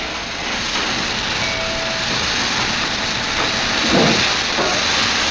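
Steam hisses loudly and steadily from a train standing at a station, a broad continuous rush with a brief swell near the end, no voices.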